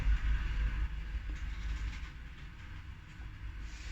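A lift moves through an apartment block with a steady low mechanical rumble and hum that is loudest at the start and eases slightly as it travels.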